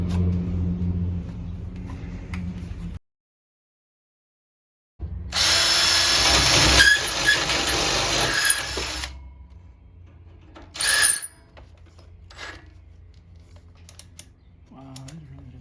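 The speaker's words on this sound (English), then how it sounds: "the drill bit is still not cutting through" A battery power drill whines loudly for several seconds after a brief silence, with short bursts of drilling and clicks around it, the bit struggling to cut through.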